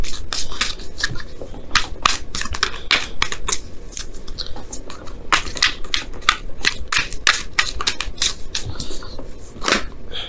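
Tarot cards are riffled and shuffled in rapid, crisp bursts of snapping and flicking, close up and fairly loud, with no talking.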